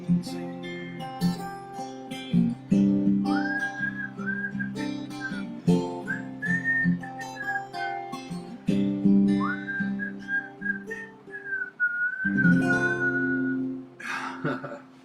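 A person whistles a tune, with clear sustained and gliding notes over a steady instrumental backing.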